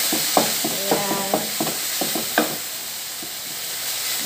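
Ground meat stirred in a frying pan for macaroni bechamel, a steady sizzle under repeated scraping and clacking strokes of a utensil, close and fairly quiet.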